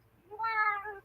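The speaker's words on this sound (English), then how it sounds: "she's a very happy kitty." A single clear, rising-then-falling meow from a contented house cat, close and fairly loud, with no other sounds around it.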